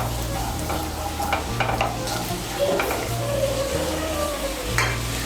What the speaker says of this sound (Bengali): তেলটা গরম হলে এর মধ্যে নুন হলুদ মাখিয়ে চিংড়ি মাছগুলো ভেজে নেব।